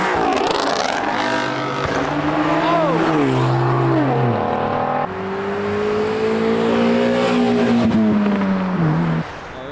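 A Porsche 911 leaving a car meet revs loud and near, its engine tone rising and shifting through gears as it pulls away, with crowd noise underneath.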